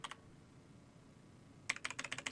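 A computer keyboard clicks out a file name, first a short pair of keystrokes, then a quiet pause and a quick, close burst of several clicks at the end.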